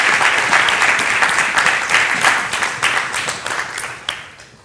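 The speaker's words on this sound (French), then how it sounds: "qu'on t'applaudisse encore très fort" A studio audience at a French talk show claps loudly and continuously for a guest, the dense applause tapering off toward the end with no voices over it.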